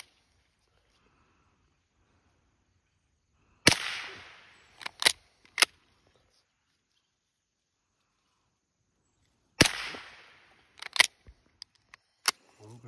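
A .22 pump-action rifle fires two sharp, loud cracks several seconds apart, each followed by quick clicks and clacks of the pump action, with quiet stillness in between.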